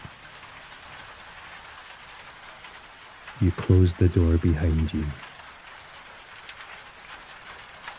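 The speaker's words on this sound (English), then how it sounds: "The rain outside becomes a sound rather than an experience" Steady rain patters on stone walls and a window throughout, with a voice speaking briefly in the middle over the soft, continuous downpour.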